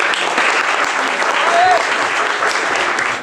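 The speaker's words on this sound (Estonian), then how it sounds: "ma arvan, et te olete kõik väärt ühte suurt aplausi" An audience bursts into steady applause at the end of the first phase of a competition, a thick, loud and even clatter of many hands held for the whole short stretch.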